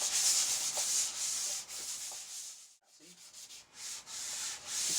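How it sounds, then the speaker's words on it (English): Light hand sanding of a small part from a 1970s Trans Am ahead of painting: repeated gentle back-and-forth strokes of abrasive, close and clear, with one brief pause midway. "You don't have to sand it hard."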